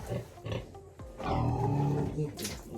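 Pig grunts and snorts come through in short bursts, close by, with a person talking over and between them.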